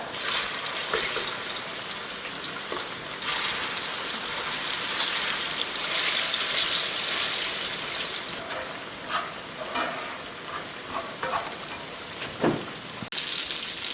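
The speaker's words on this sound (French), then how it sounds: "pour mes bananes plantains, je vais venir les frire rapidement" Plantain slices for alloco fry in hot oil left over from frying fish, giving a continuous close hiss and crackle with small pops and a few scraping knocks.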